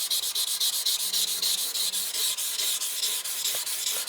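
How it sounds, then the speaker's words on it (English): A steel knife blade filed from a file is rubbed back and forth with 1200 grit sandpaper in quick, even strokes, a steady rasping rhythm close to the mic with no voices. "So I'm gonna just sand it back again with 1200 now"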